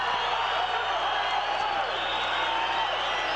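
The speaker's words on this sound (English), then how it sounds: "Crowd is really going for Sugar Ray" Boxing arena crowd roaring and cheering for Sugar Ray Leonard as he is introduced before his bout with Bernardo Prada, a dense, steady wash of voices and whoops throughout with no gaps.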